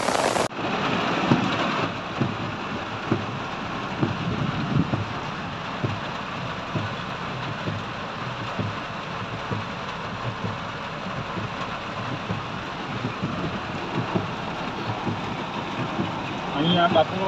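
Heavy rain pours over the flooded town streets of Navsari-Vijalpor in a steady, unbroken roar, with people talking nearby throughout.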